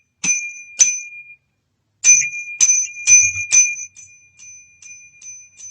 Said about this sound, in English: Now let's try ringing the doorbell again.